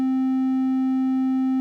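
Many sine waves mixed together form a steady, buzzy tone with a strong low fundamental and a stack of evenly spaced harmonics, held loud and unchanging throughout.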